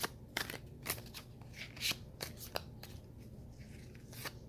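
A deck of cards, used for a reading, is shuffled in quick riffling bursts, with crisp snaps and short rustles close by in a quiet room.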